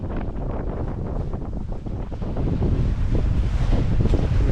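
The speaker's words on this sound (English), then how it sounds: "the winds and waves increased as I expected" Strong wind buffets the microphone while waves slap and wash against a sailboat under sail on the Potomac River. The rumble is loud and turbulent and swells toward the end, with no voices.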